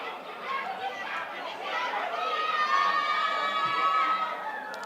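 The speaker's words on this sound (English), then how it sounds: "you can see here the Red Army cheering on their captain, as always" A football crowd of supporters known as the Red Army cheers on its captain during a Debmarine Premier League match between African Stars and Young African, a steady mass of chatter and shouting from the stands, with a commentator's voice over it.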